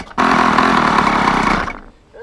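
A scooter engine with a carburetor fault runs roughly at idle, a loud, steady, buzzing drone for about a second and a half that then sags and dies away.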